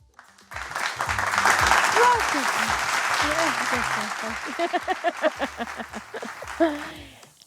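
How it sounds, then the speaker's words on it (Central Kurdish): Strong applause from a studio audience on a game show, a dense burst of clapping that swells then thins out, with voices calling over it. "تا چۆپڵێکی بەهێز بۆ بانیا زەردیش"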